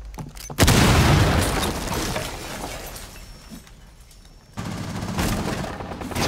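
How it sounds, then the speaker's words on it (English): A breaching charge blows a wall in Rainbow Six Siege: one loud, close boom with a long rumbling tail that fades, then a second burst of noisy crackle and debris near the end. "Breaching charges deployed. Triggering breach."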